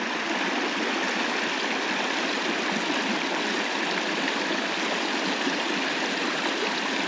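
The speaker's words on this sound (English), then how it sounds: "So this also seems to be our first creek crossing of the day." Water rushes steadily over rocks in a mountain creek in Idaho's Sawtooth Mountains, a loud, constant broadband flow with no pauses and no voices.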